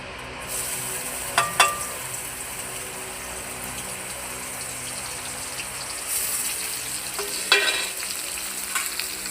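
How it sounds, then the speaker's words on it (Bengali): Chopped onions sizzle steadily in hot oil in a pan, a close, even frying hiss with a few brief clinks and stirring scrapes. "যে পেঁয়াজ কুচানো আছে তেলের মধ্যে দিয়ে দিলাম"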